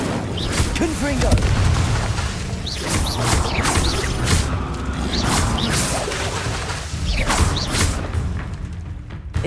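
Spell blasts from Incendio and Confringo in the Hogwarts game, a dense run of whooshing bursts and booming thuds over a busy, loud background, with fire crackle and repeated explosive hits spaced through the clip.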